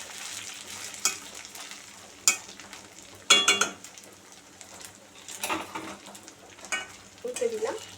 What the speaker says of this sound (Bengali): এদিকে খুন্তিটা দিয়ে একটু উল্টে দেবো।